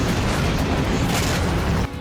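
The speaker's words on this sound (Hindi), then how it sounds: "उत्तरी इजरायल में एक के बाद एक कई धमाके हुए" Rocket explosions in northern Israel: a dense, loud, continuous roar of blasts and crackling that fills the clip before cutting off abruptly near the end, with no talk.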